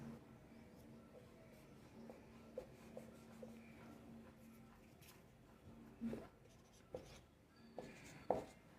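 Pen strokes scratch out figures on paper in short, faint bursts over a quiet background with a low steady hum, growing slightly louder toward the end.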